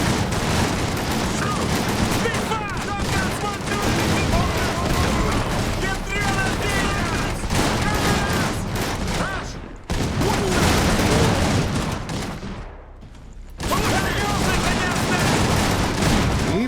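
Gunfire from shotgun squads in Iron Harvest, a dense, continuous fusillade of overlapping shots and booms that stays loud throughout, dipping briefly near the end, with voices mixed in.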